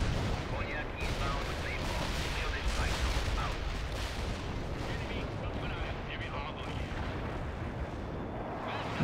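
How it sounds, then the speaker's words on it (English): Napalm airstrikes in the strategy game World in Conflict, a dense, continuous rumble of blasts and crackling fire with rolling explosions that stays loud and unbroken throughout. "So yeah, we're gonna just do airstrikes in between everything. I guess we'll just do more napalm."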